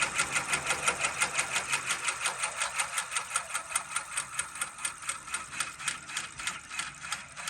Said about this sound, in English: So it's doing the underlay, and now it's going back in and doing satin stitches.